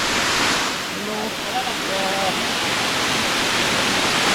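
Kaparkan Falls in Tineg, Abra: a broad, steady roar of rushing falling water, loud and close, with faint voices briefly audible under the constant wash.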